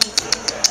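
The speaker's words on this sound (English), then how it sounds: "What a beautiful bird." A pet bird, a female, gives five short, high chirps at an even pace, close by and fairly loud, with no talk over them.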